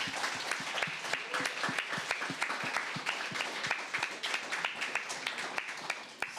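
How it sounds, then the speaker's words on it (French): A small group claps together during a podcast-style discussion, scattered individual claps blending into a brisk, moderately quiet round of applause that holds steady throughout. "ça mérite une main d'applaudissement"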